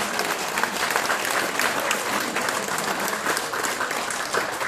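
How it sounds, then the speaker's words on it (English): Full, continuous audience applause at a political roadshow event in Whakatane, loud and sustained throughout with no pause. "Let's give a round of applause for Glen Innes."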